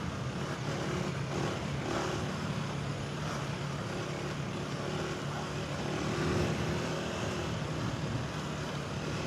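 Steady, fairly quiet engine drone of a 2026 KTM 390 Adventure R motorcycle riding straight along a muddy trail, continuous with wind rush and no talk.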